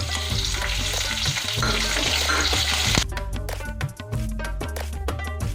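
Green chillies and curry leaves fry in a pan for coconut rice, giving a steady close sizzle with stirring for several seconds over background music, which turns sparser partway through.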